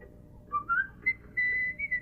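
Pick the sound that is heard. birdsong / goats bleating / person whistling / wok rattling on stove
person whistling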